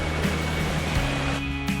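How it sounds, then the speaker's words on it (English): A small creek crossing on a hiking trail up Mount Washington, with steady, close water rushing and babbling that fills the short moment evenly, with no voices. "Little creek crossing."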